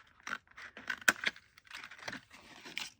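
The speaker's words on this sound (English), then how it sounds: "So I'm going to just cut this right on the seam." Scissors cutting paper packaging along its seam, a series of short close snips and crinkles with one sharp click in the middle, quiet overall.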